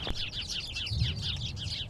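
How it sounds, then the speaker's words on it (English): A flock of small birds chirps continuously near an airport, quick high twittering calls overlapping at moderate volume above a low background rumble. "A bunch of small birds. Probably conversing about something."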